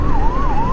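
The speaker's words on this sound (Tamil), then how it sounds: "ஐயோ ஆம்புலன்ஸுங்க, ஆம்புலன்ஸ் வருதுங்க." An ambulance siren wails on a road in Pondicherry, heard from a motorbike ride, loud and close with a smoothly rising and falling tone over engine and traffic rumble.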